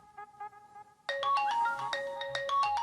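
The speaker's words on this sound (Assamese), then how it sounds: "আপুনি যেনেকৈ এটা কল কৰাৰ পিছত মোবাইলটো ৰিং কৰিব, তেতিয়া আপুনি প্লে চাউণ্ড কৰাৰ লগে লগে চাব সেই আপোনাৰ হেৰুৱা মোবাইলটো" A lost mobile phone rings loudly after being triggered remotely through a Play Sound finder feature, a repeating electronic ringtone melody that starts abruptly after a second of quiet faint tones and continues steadily.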